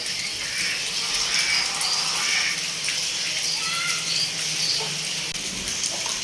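Rain falls steadily in a hissing, splashing wash, close and fairly loud, with faint bird calls in the background.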